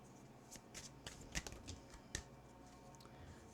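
Tarot cards are shuffled and drawn during a reading, giving soft close riffling and flicking snaps in quick bursts against a quiet room, with no speech.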